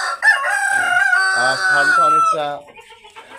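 A rooster on a hill-breed chicken farm lets out one loud, drawn-out crow up close, followed by brief speech as it fades.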